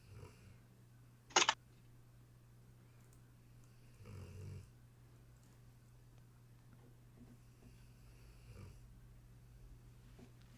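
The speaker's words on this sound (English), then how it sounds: "My dog is snoring." A pet dog snoring indoors, a faint steady low rumble with slow recurring breaths beneath a constant hum, broken by one brief sharp noise near the start.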